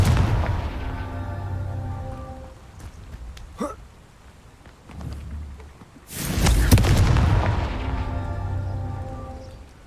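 Confringo fire spell from Hogwarts Legacy, played on PC: a sharp crackling zap near four seconds, then a heavy explosive whoosh around six seconds that swells loudly and fades over a low rumbling game backdrop.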